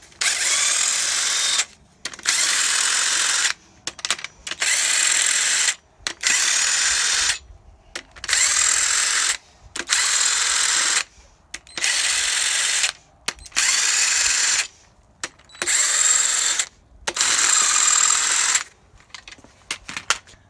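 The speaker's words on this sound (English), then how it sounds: "we're just going to impact them off." A series of impact wrench bursts spins bolts out of a Honda D16Y7 engine block, with about ten loud, steady two-second runs broken by short pauses, close up and with no talk.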